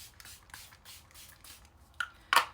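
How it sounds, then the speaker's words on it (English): Quiet rubbing and shuffling sounds, then two short sprays of makeup setting spray onto a face, the second louder and crisper, like a mist bottle spritzed close by. "Now I'm going to go in with some setting spray."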